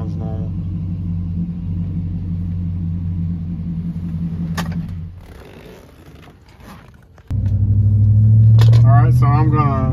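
A Chevrolet Silverado engine idles steadily just after a TPS sensor replacement, dips briefly, then is revved with a louder rising roar; a person talks over the running engine.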